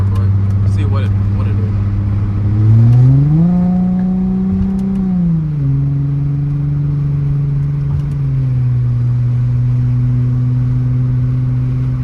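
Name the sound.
2004 Chrysler Crossfire engine revving at half throttle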